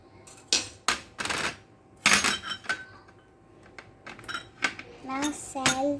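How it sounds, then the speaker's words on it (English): Vegetables are stirred into rava appe batter in a bowl with curd, a spoon clinking and scraping against the bowl in several separate bursts, close and fairly loud, with short pauses between strokes. "Now mix vegetable."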